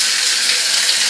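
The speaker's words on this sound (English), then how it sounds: "the water pressure here is great." A hotel shower turned up to full pressure gives a dense, loud, unbroken rush of spraying water close by, steady throughout with no voices.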